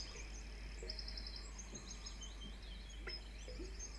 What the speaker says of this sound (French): On va passer à l'oiseau des forêts. Un oiseau fort sympathique.